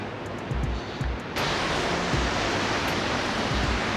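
A waterfall near the Bibi Fatima hot spring in the Pamirs roars in a steady, broadband rush. It grows suddenly louder and closer partway through, with a few faint thuds early on.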